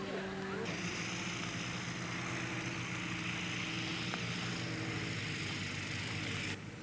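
Aircraft engine droning at a parachute jump airfield in 1981, a steady loud propeller hum close by that runs on continuously, with a voice speaking over it.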